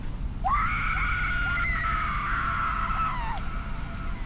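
A single long, drawn-out scream in a forest, loud and sustained for about three seconds. The pitch jumps up at the onset and drops away at the end, over a low steady hum.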